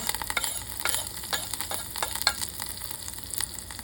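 Olive oil with oregano, fresh parsley and basil sizzles steadily in a hot pan, with sharp pops and crackles bursting out repeatedly throughout.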